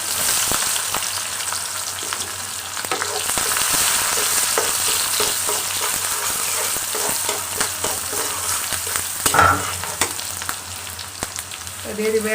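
Onions frying in hot oil, a loud, dense, continuous sizzle heard up close, with occasional stirring clatter and a brief sharper spike near the end, no talking.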